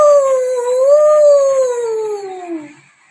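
A human voice imitates a wolf howl, a single sustained, rising then slowly falling tonal call lasting about three seconds, loud and close, fading out at the end.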